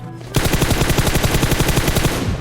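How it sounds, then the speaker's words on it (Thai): Rapid automatic gunfire from the mobile battle royale game Free Fire, a loud unbroken burst of shots that starts abruptly after a brief quiet lead-in and keeps up a fast, steady rhythm to the end. "เดี๋ยวยิงคอให้"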